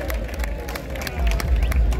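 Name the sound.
crowd clapping at wrestling ground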